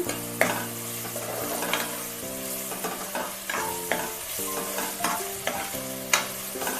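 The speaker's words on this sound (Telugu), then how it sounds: "అల్లం వెల్లుల్లి పేస్ట్ వేసుకొని మనం దీన్ని కలుపుకుందాము" Onions frying in oil with ginger-garlic paste, stirred in a pan for a country chicken curry, make a close sizzle broken by repeated scraping strokes of the spoon, with steady tonal sound humming in the background.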